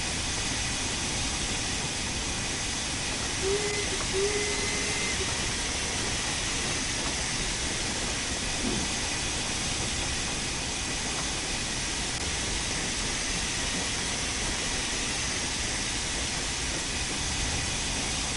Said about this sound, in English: How long does it take for the train to slow down?